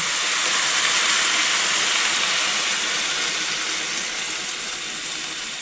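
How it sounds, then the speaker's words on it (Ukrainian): Continuous rushing splash of water poured steadily into a pot of lightly fried vegetables, loud at first and easing slightly toward the end. "заливаю їх водою"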